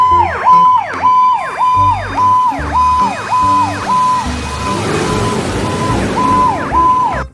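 A toy fire truck siren wails in a fast, repeating up-and-down pattern, loud and close, with a short electronic jingle and a brief break near the end.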